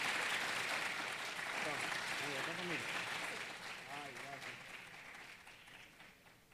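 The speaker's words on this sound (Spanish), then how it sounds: "Démosles un fuerte aplauso y muchísimas gracias." Audience at a dental aesthetics congress applauds the presenters, a full wash of clapping under a voice speaking over it midway, with the applause tapering off toward the end.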